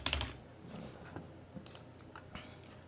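Light keystrokes on a computer keyboard while naming a new folder, scattered soft clicks at low volume in a quiet room.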